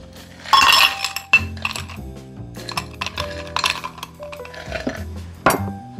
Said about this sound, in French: Donc on va mettre des glaçons dans le verre.